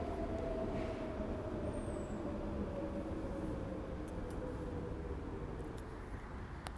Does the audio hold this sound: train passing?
yes